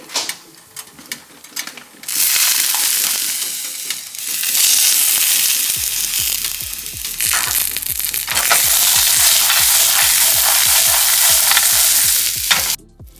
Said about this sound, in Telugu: సో నేను కొన్ని వెల్లుల్లి యాడ్ చేస్తున్నాను అండ్ గ్రీన్ చిల్లీ